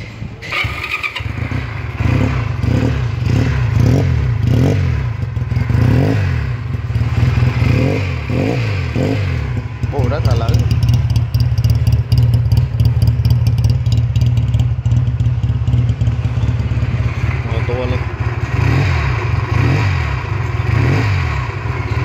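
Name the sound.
Honda CB125R motorcycle engine running and revving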